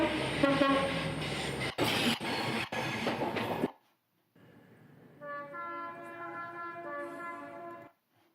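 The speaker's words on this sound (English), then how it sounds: "Here's another angle of the farewell country HST. Departing Plymouth to Leeds." An Intercity 125 HST train departing Plymouth for Leeds: a loud roaring passage with clattering bursts, then sudden quiet before a steady multi-tone horn-like hum rises and holds until cutting off.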